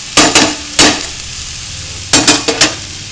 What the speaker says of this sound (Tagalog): So, medyo halu-haluin lang ng konti hanggang sa lumabas yung kanyang katas.